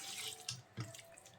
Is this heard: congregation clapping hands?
no